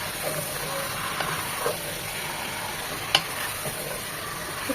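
Chicken pieces fry in hot oil over high heat, a steady soft sizzle and hiss with a few clinks and scrapes of stirring, alone and close.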